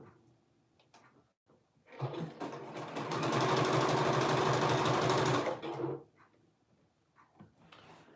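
A sewing machine stitches a neckband in one continuous burst of about four seconds, close and steady, with quiet handling clicks before and after.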